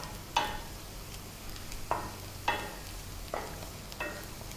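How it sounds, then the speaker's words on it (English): Onions and minced mutton sauté in a pan for biryani, with a soft steady sizzle and several distinct scraping stirs of a spoon against the pan, close and quiet. "Let's saute it for another couple of minutes."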